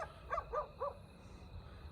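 Dogs barking outdoors at night: three quick barks in a short burst, moderately distant and fairly faint, then quiet background.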